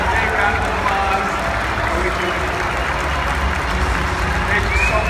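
Applause from a large convention audience, a continuous dense wash of clapping throughout, fairly loud and even.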